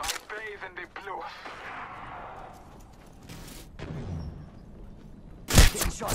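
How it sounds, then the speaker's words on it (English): Enemy gunfire in Apex Legends, including a charge rifle, cracks out in scattered shots under a player's speech, with a loud, sharp blast near the end. "The enemies are shooting at me."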